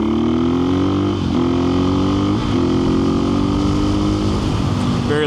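A KTM 500 EXC-F dual-sport motorcycle cruising on country roads, its single-cylinder engine holding a loud, steady drone close by with a few brief shifts in pitch as the throttle eases and picks up again.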